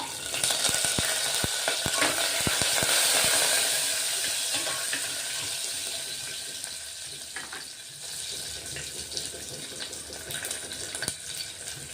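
Chopped garlic and curry leaves with cumin seeds sizzle in a pan for yellow khichdi, a loud crackling burst at first that settles into a steady hiss with occasional spatters.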